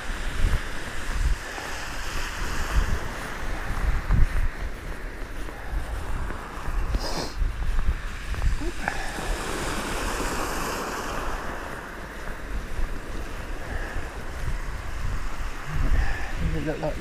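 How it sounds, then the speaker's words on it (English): Strong wind gusting and buffeting across open sea off Suffolk, with waves washing steadily underneath; no voices, constant roar throughout. "If this wind would die down, it'd be a lovely day."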